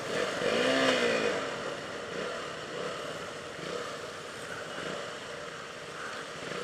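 A KTM Duke 200 motorcycle with a slightly slipping clutch rides on the streets of Kathmandu, its engine droning steadily under loud wind rush and a brief rising whine near the start.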